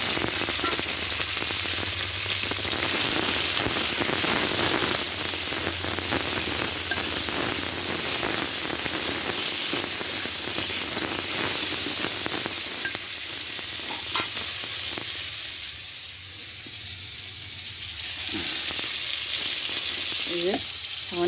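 Crabs frying with taro in a pan, a dense, continuous sizzle with crackling bursts and stirring scrapes, loud and close, easing briefly before the crackle picks up again.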